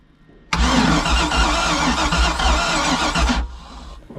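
An old, cheap boat engine cranks loudly on the key for about three seconds, a rapid rhythmic churning starter whir that cuts off abruptly, close by.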